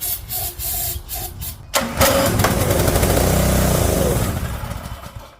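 A refurbished old go-kart's small engine catches after a few pull-start tugs and then runs in a loud, close, buzzing idle that fades slightly toward the end.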